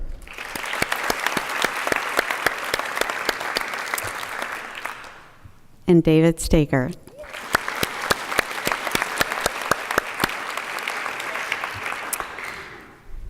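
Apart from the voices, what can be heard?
audience applauding hall of fame inductees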